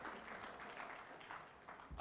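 An audience applauds at an organisation's strategy launch event, a faint, even wash of clapping that carries on for a couple of seconds and sounds somewhat distant.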